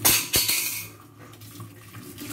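Tap water running during dish rinsing, a brief splash and clatter at the start, then a softer steady trickle.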